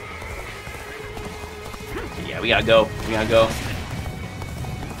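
A horse whinnies twice in a Dynasty Warriors: Origins battle, sharp neighs over galloping hooves and battlefield noise, while someone talks throughout.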